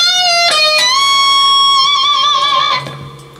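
An electric guitar plays a short riff: a few picked notes, then a sustained bent note with vibrato ringing clearly, loud and up close with no talking over it.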